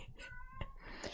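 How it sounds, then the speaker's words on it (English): A pet cat meows briefly and close, a short tonal call with harmonics rising over low room noise, followed by a soft rustle. "Oh my god, and that's my cat."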